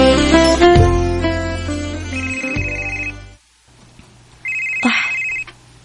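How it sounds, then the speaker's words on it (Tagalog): A phone ringtone sounds loudly for an incoming call, a bright electronic melody that stops briefly and then resumes in a pulsing tone, with no talk. "Si Jelly ning nanawag"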